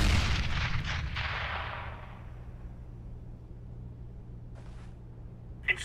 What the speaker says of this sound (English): Throwing a grenade.